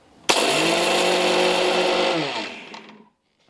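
A mixer grinder whirs loudly, grinding soaked poha with salt into roti dough, a steady motor drone for over two seconds that winds down and stops.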